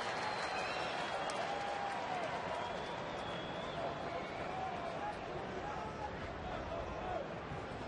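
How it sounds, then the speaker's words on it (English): A baseball stadium crowd at a Giants–Reds game cheers and applauds a first-pitch strike, a continuous broad roar of clapping and voices under an announcer's talk. "The crowd facetiously cheers a first pitch strike from Massett"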